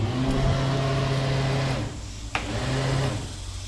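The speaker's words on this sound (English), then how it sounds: "The blower actually does work." A Bayliner boat's blower fan runs with a steady electric motor hum and whine, close and even, with a brief click partway through and no talking.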